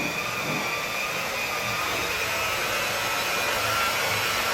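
A buffing machine polishing a Toyota Fortuner with faded paint, a steady unbroken motor whine and rushing hum held at constant loudness throughout, close and alone with no voices.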